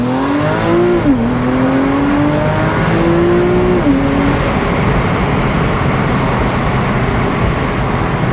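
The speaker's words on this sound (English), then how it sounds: "Let's hear the car accelerate in Sport Plus." A 2009 Porsche 911 Carrera 4S (997.2) engine revs hard in Sport Plus mode, pitch climbing through a gear change from first to second, then settles into a loud steady roar of road and engine noise.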